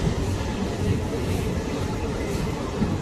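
Riding a Mumbai local train: a steady, loud rumble of the carriage runs unbroken throughout, with a dense rolling rail noise close around the listener.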